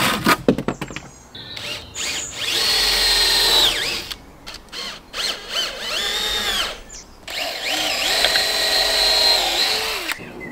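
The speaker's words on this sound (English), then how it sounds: "drill it in" A power drill whines loudly through three long bursts as it bores into a 2x4 of wood, with short clattering handling noises in the pauses between.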